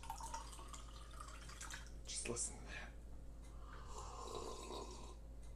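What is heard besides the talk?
purified water dripping from a water purifier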